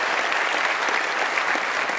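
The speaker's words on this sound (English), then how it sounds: "can I have a round of applause for them?" Dense, continuous applause from a large conference audience at DockerCon 2018 in San Francisco, a steady loud wash of many hands clapping throughout.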